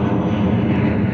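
Norse Boeing 787-9 Dreamliner arriving at London Gatwick on a flight from JFK, New York, a steady broadband engine roar with a low rumble, loud and continuous throughout the short moment.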